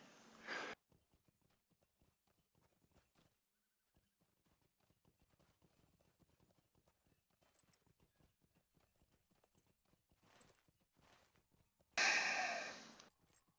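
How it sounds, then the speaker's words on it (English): Hooves of the Steed of Winter's Light, a Yule Festival horse mount in The Lord of the Rings Online, clip-clop in two short, fairly loud bursts at the start and end, separated by near silence. "Steed of Winter's Light. A horse from the Yule Festival"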